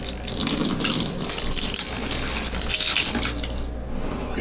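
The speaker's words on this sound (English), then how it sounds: "we're gonna go ahead and take the rest of the salt water and pour it on it" Salt water poured out in a steady, continuous splashing stream, close and fairly loud, running evenly for the whole stretch without a break.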